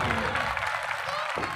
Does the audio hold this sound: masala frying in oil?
no